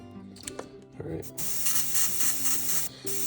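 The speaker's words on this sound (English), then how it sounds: "You can see when I'm spraying it on the side here" A steady hiss of spray paint from a can onto Kokanee fishing dodgers runs for about two seconds after a few soft clicks and handling sounds.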